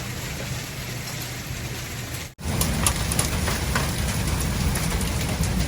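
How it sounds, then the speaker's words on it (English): Hail falling during a storm in Fort Worth, Texas, with sideways rain: a dense, loud patter of impacts that cuts out briefly, then resumes with sharper, distinct hits. "We got hail."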